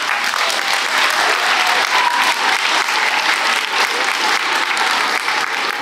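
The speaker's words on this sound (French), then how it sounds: "On peut les applaudir." Audience at an eloquence contest applauds the candidates, a loud, continuous wash of clapping from a full hall, steady throughout with no break.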